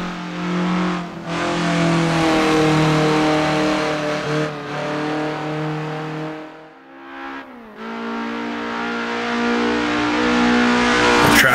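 A sim racing car engine drones at high revs, then drops in pitch under braking, with a quick throttle blip on the heel-toe downshift into second gear before climbing again; loud and continuous.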